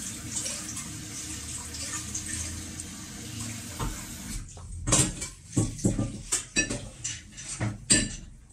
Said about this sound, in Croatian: Isperemo toplom vodom.